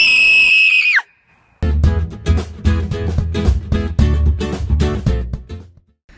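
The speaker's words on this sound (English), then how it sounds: "And who can forget the classic damsel in distress scream." A woman's high, piercing damsel-in-distress scream, a horror film sound effect, holds loud for about a second and slides downward, then cuts off; after a short silence, heavy percussive music thumps in with irregular beats.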